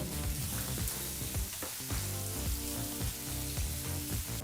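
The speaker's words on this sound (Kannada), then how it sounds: "ಮೂರು ನಿಮಿಷಗಳ ಕಾಲ ಲೋ ಟು ಮೀಡಿಯಂ ಫ್ಲೇಮ್ನಲ್ಲೇ ಈರುಳ್ಳಿನ ಫ್ರೈ ಮಾಡ್ಕೋಬೇಕು" Finely chopped onion fries over a low to medium flame for brinjal rice, giving a dense, continuous crackling sizzle with occasional stirring scrapes, close up and with no voices.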